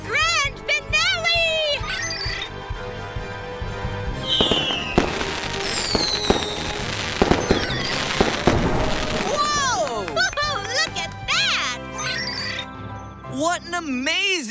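Cartoon fireworks grand finale: a dense, loud barrage of bursts, crackles and whistling rising shells over continuous music, with a voice briefly heard among the explosions.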